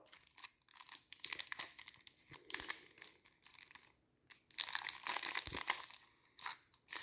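Crinkling and tearing of a Hershey Skor chocolate toffee bar wrapper, close and quiet, in irregular bursts with brief pauses and no talking.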